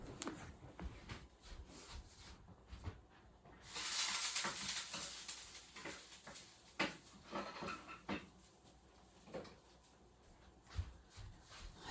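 Food sizzling in a pan with intermittent stirring and scraping, a hissing swell in the middle, fairly quiet and close with irregular clinks and taps.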